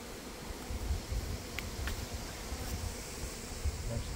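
Honeybees buzz steadily around an open hive during an inspection done without a smoker, a dense close swarm hum with no voices over it.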